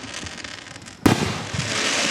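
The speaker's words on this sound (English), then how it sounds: "Cindy, what do you think of these fireworks?" A single loud firework bursts at a Gettysburg Fourth of July show, followed by a long crackling, hissing tail against faint distant booms.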